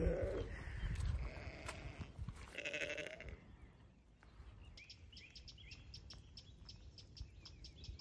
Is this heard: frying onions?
no